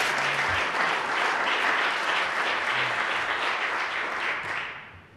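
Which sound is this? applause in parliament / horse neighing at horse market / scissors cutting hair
applause in parliament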